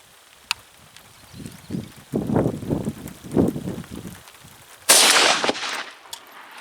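A shotgun fires a Winchester Expert high velocity shell during a Jeb's High Voltage .690 choke tube patterning test, one sharp loud blast outdoors followed by a short fading tail, after a stretch of quieter wind and rustling.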